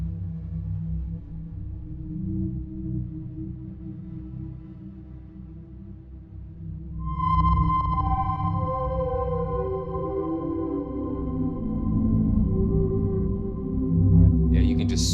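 The soft snapshot preset of the Ursa Major synth plays a sustained, smooth pad. It starts low and dense, then brighter tones swell in about halfway through and linger. Moderately loud, with no voices.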